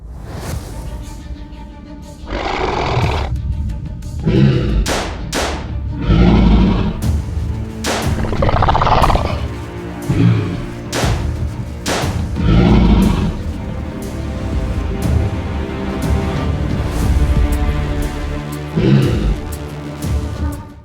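Gun fired at dinosaurs on a video game dinosaur island, sharp loud shots spaced irregularly among whooshes and heavy game sounds, over continuous background music.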